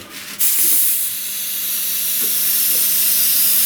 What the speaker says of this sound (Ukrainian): Чуєте, шипить? Ось він. Оце місце проколу.